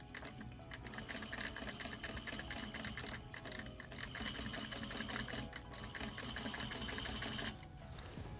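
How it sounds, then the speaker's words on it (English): A sewing machine stitching drapery fabric over a press line and pins, a fast, steady mechanical rattle of needle strokes close up, running continuously and easing off near the end. "I'm just stitching over that press line and right over the pins"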